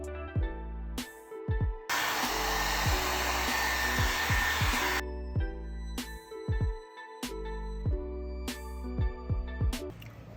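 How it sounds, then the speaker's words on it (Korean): A hair dryer drying watercolor paint roars steadily for about three seconds, close and loud, with clicking and tapping sounds before and after it. "드라이기를 활용해서 다 말렸고"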